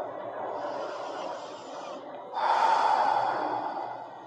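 Long, slow breaths in and out during a guided yoga trapeze workout, a soft airy inhale followed by a stronger, louder exhale close to the microphone.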